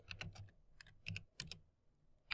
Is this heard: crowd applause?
no